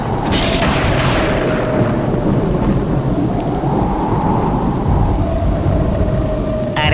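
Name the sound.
rain with thunder in an animated cartoon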